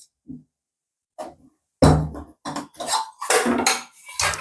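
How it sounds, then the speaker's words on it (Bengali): A steel tiffin box is lowered and its lid opened in a village kitchen, with a few faint scrapes, then a burst of loud metallic clanks and rattles of the container and lid at close range, with no talking. "টিফিন বক্সটা আস্তে আস্তে করে নামাবো"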